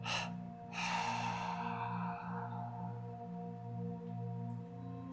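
A slow, steady exhale during a yoga breathing practice, a soft breathy rush that starts strongly and lingers over a low steady hum, with no talking.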